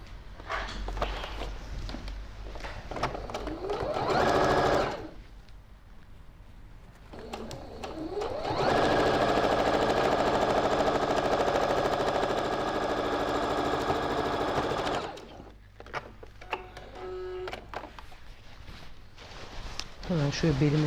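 A sewing machine stitches the waistband of a pleated taffeta skirt, running in long steady whirring bursts with pauses between, close up, while someone talks in the gaps.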